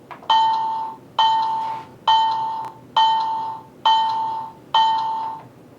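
Bell of a Bachmann GG1 HO scale model locomotive with SoundTraxx sound, ringing six evenly spaced electronic dings, each clear and fairly loud with a short decaying tail, with no voices.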